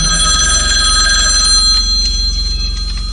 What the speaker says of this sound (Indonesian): Tidak lama setelah itu telepon kembali berdering.